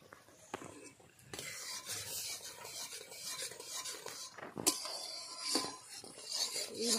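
A spoon scrapes and rubs around a wok of boiling jackfruit juice being cooked down into jackfruit jaggery in a village kitchen, with steady rasping strokes and a few sharp knocks against the pan.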